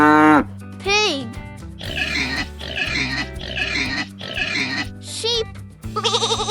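A pig grunts and oinks in a run of short, rough snorts near and fairly loud, with higher squeals and other animal-like calls at the start and end.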